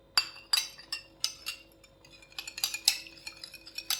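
A spoon clinks repeatedly against a cup or glass while stirring yellow zarda food colour into a little milk for biryani, with sharp, close taps in an irregular rhythm and no talking.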